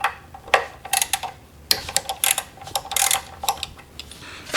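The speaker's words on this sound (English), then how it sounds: "We're now going to remove the ABS sensor with a 5mm wrench." A 5mm wrench turns the bolt on the ABS sensor of an FJR1300 motorcycle, giving a run of close, irregular metallic clicks and ratcheting ticks with brief pauses between bursts.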